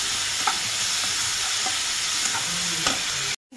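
Onion paste masala sautéing in a kadai gives off a steady close sizzle broken by spoon scrapes and clinks, then cuts off abruptly at the end.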